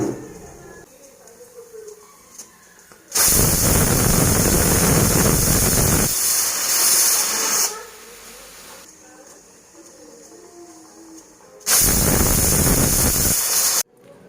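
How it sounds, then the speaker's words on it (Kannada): Pressure cooker whistling during vegetable sambar cooking with dal and drumsticks: two loud, shrill, steady blasts of about three seconds each, separated by a softer hissing lull, close to the microphone with no talking. "ಕುಕ್ಕರ್ ವಿಸಿಲ್ ಹೋಗಿದೆ."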